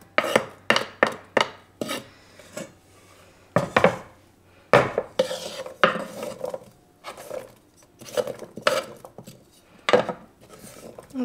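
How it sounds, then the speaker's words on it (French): Chopped peppers, onions, carrots and potatoes are dropped into a cooking pot, making a quick run of sharp clattering knocks and scrapes, then scattered softer bumps and rattles, close and clear with no talk. "j'y dépose mes poivrons, mes oignons, carottes ainsi que les pommes de terre"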